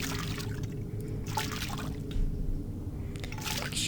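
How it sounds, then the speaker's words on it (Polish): A water tap runs in The Black Mirror video game, giving off a steady splashing trickle with uneven spurts and drips. It is moderately close and heard alone, with no talk. "Jakiś kranik."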